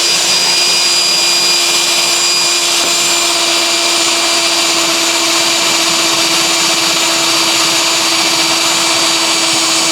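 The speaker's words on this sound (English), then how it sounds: "let's see how it drills in this heavier steel" A steady, loud, high-pitched whine of a drill bit grinding into thick steel, continuous and unbroken throughout with no talking.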